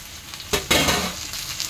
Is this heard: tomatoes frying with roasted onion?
yes